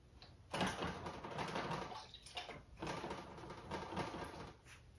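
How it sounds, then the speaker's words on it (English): An acrylic paintbrush swishes and clinks in a water container while being rinsed, making repeated soft sloshing bursts up close, with no voices. "I'm going to rinse my brush out."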